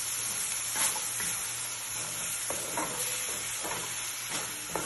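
Cooking cream mixture is stirred in a pan, producing a soft sizzling hiss with repeated scraping strokes at an uneven rhythm, close and moderately loud with no talking.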